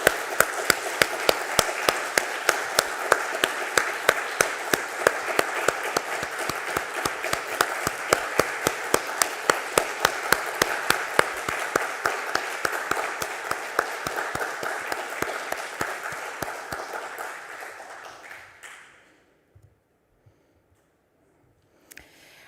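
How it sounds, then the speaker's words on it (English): Audience at a GNOME GUADEC conference session applauds departing directors, a sustained round of clapping with sharp individual claps standing out, holding steady before fading out around nineteen seconds into near silence. "So a big clap for them."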